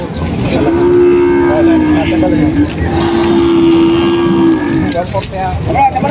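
Water buffalo at a livestock auction market low loudly in long, drawn-out moos, two sustained calls close by, amid a noisy crowd with people talking in the background.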